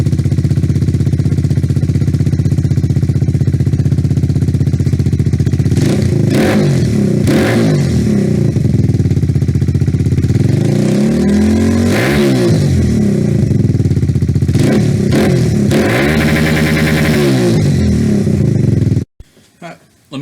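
A Kawasaki Z125 Pro motorcycle fitted with an aftermarket eBay exhaust runs with a low, steady idle, then revs up sharply several times in rising and falling sweeps, loud and close, before cutting off near the end.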